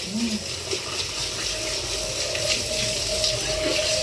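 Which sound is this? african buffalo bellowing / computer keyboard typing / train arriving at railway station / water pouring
water pouring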